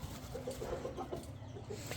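Rooster on a breeding farm clucking in a short series of soft, repeated notes, mid-distance, over a steady low background rumble.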